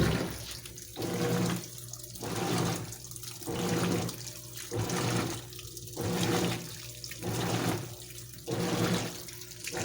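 A washing machine on a heavy duty cycle fills with water during the main wash, a rushing gush that swells and eases in regular pulses about every second or so, steady and close with no voices.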